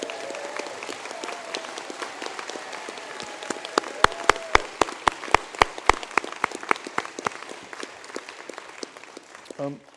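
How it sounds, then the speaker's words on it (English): At an ATU Sligo conferring ceremony for postgraduate awards, a hall audience gives scattered applause. Distinct individual claps ring out, some falling into a steady rhythm, with soft voices murmuring underneath. "I'd like to give everyone a round of applause,"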